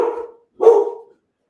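Two short barks from a dog, fairly close and loud, separated by a brief pause.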